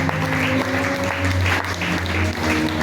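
A congregation applauds during a church service, a steady wash of clapping with a faint sustained musical tone underneath, moderately loud and continuous.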